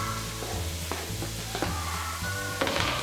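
Vegetables sizzling in a hot pan: a steady, close frying hiss that runs throughout, with a few soft clinks of stirring.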